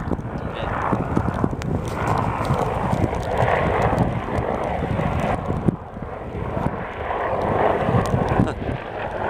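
An A-10 Warthog military attack aircraft roars overhead during rain on Dartmoor near Lydford, a loud, sustained jet rumble that swells and fades across the whole stretch.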